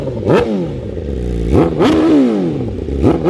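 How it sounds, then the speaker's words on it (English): A full carbon BMW M1000RR motorcycle engine revved in a few sharp blips, each rising quickly in pitch and falling back to a rough idle, loud and close. "get a couple little revs."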